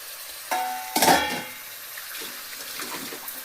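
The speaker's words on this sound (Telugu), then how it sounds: "ఇప్పుడు ఇందులో అయితే నేను శుభ్రంగా కడిగి ఉంచిన మటన్ అయితే వేస్తున్నాను" Washed mutton dropped into fried masala in a cooking pot, giving a sudden wet splash and burst of sizzling that settles into a quieter, lingering fry; no talk.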